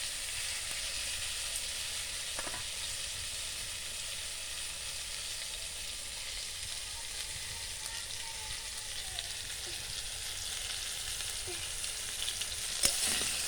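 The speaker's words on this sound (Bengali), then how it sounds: "বেগুন ভাজা হয়ে গেছে," Eggplant slices frying in hot oil in a pan for a Bengali stinging catfish curry, a steady soft sizzle that runs evenly throughout, close but fairly quiet, with an occasional light clink near the end.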